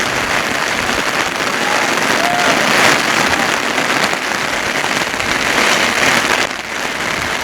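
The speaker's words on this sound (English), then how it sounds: "as it's raining so heavily," Heavy rain lashes down on a hillside in high wind, a loud, dense and continuous hiss of drops pelting surfaces close by, with gusty rushes and no voices.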